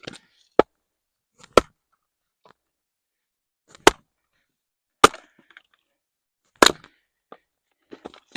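Dry birch wood split with a splitting maul, sharp cracking impacts spaced a second or more apart, about six loud strikes with small splintering ticks between them, close and clear.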